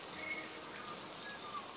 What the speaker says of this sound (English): It's been raining here all day.